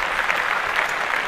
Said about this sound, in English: Clap that shit up.